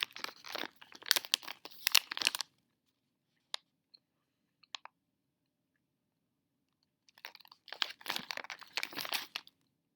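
Chocolate-covered gummy bear is chewed close to the ear in two bursts of wet, squishy chewing, separated by a few seconds of near silence with small isolated clicks.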